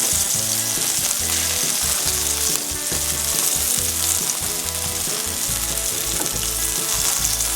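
Chicken pieces fry in a pan for a creamy mushroom pasta, giving a loud, steady crackling sizzle with irregular bubbling pops and occasional stirring, close and with no talk.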